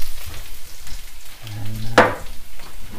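Garlic frying in a pan for fried rice, a soft sizzle under a low hum, with one sharp scraping clatter near the middle as it is stirred.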